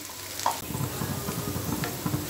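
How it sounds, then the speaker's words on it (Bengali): Chopped onions frying in oil, stirred until browned, a close steady sizzle with soft spoon scrapes and tapping. "পেঁয়াজের কুচিগুলোকে আমি এ পর্যায়ে ভালোভাবে নেড়ে চেড়ে লালচে কালার করে বেরেস্তা করে"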